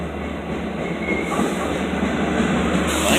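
A Long Island Rail Road train at Great River station rumbles steadily close by, a broad continuous rolling roar with faint wheel squeal, no voices.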